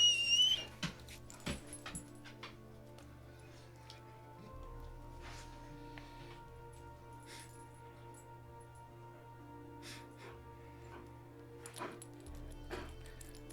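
A dog gives faint whimpers and small yips that come and go over a low steady hum, a little louder at the start and near the end.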